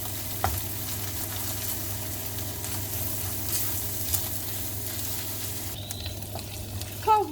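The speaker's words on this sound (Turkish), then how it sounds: "Salçamızın kokusu çıkana kadar bir parça karıştıralım" Tomato paste frying in a pan for stuffed aubergines as it is stirred, giving a steady close sizzle with occasional scraping and clinking of the utensil, with no talking.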